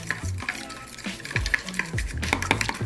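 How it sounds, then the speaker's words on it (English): Eggs being mixed together in a bowl for a chocoflan, heard as a busy run of close utensil clinks and scraping stirs against the bowl with an uneven rhythm. "we're just gonna mix everything together until our eggs are well mixed"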